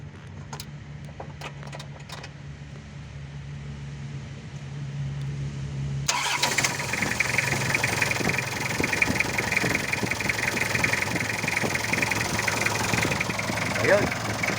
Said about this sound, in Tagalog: 2L ang makina nito, diesel engine.